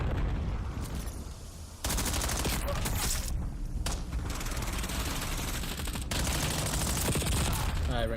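Rapid gunfire in a Call of Duty match, dense automatic bursts crackling almost nonstop with short pauses, loud and close, with voices talking underneath.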